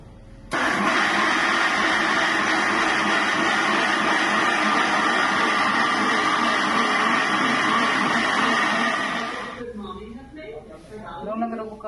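A mixer grinder whirs loudly and steadily as it grinds soaked rice into batter, running for about nine seconds before cutting off, after which a voice speaks briefly.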